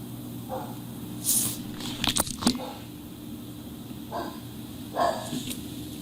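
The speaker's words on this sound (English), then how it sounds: "Who you barking at?" A dog barks a few scattered times, short sharp yelps at moderate distance over a low steady background hum.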